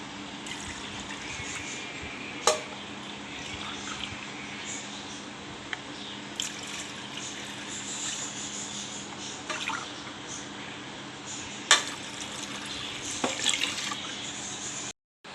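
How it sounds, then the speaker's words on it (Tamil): Water runs steadily into a pressure cooker with a soft, continuous splashing, broken by a few sharper drips and clinks before it stops abruptly. "இப்போ 2 கப்பு தண்ணியில் ஊற்றி ப்ரெஷர் குக்கரில் கொதிக்கணும்"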